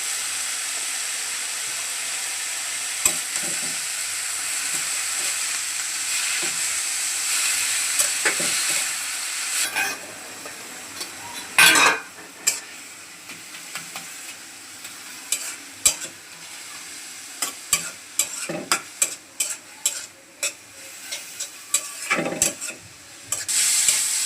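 Greens with salt and turmeric fry in a pan under a steady sizzling hiss, broken by repeated scraping and clattering stirs that grow busier and more frequent in the second half.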